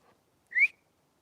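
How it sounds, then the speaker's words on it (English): A single short whistle, rising and fairly faint, heard outdoors among trees in an otherwise silent setting. "Oh, whistles."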